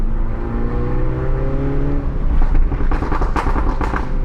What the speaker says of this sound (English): if I put it in sports mode, something interesting happens to the exhaust